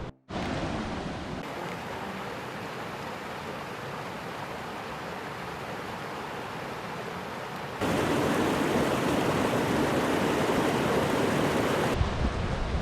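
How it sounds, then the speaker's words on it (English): A mountain stream in Rocky Mountain National Park rushes steadily in a dense, even hiss of flowing water, close by and unbroken, growing noticeably louder about halfway through, with no voices. "I keep stopping at every little stream I see."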